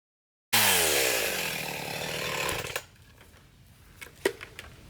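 A sharp hand saw cuts through firewood held in a wooden cradle: one long, loud rasping stroke followed by a few faint knocks as the cut piece drops.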